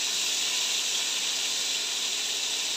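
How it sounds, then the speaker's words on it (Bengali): Shrimp fry in hot oil with a little salt and turmeric, giving a steady, loud, close sizzle that hisses evenly without a break. "চিংড়ি মাছটাকে আগে ভালো করে ভেজে নিতে হবে।"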